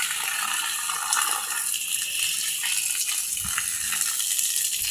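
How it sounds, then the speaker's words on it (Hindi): Water poured from a container into a shallow bird drinking dish in a garden, a steady splashing trickle running close and fairly loud for several seconds with no talk over it. "यहाँ पर मैं चिड़ियों के लिए पानी डाल रही हूँ"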